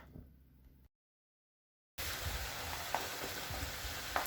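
Oil heats in a frying pan on a stove for a potato omelette, giving a steady close sizzle with a few sharper pops, after a brief silence.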